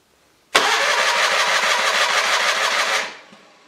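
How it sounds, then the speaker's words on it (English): An Onan engine on a John Deere 318 or 420 garden tractor is cranked over by the starter during a compression test, a loud, rapid rhythmic churning that runs for about two and a half seconds and then winds down. "I'm gonna turn the engine over until the needle stops moving and we'll see where it's at."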